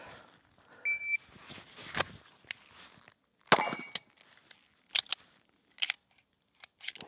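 A handgun fires during a shoulder holster drill, giving sharp, separated cracks spread across several seconds with brief clicks and clatter between them, loud and close with no talking.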